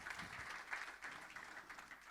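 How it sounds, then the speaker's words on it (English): Applause from an audience at an introduction of the DohaCreatives team, a soft, distant patter of clapping hands, fairly faint and even throughout, with no speech. "So give her a half round of applause."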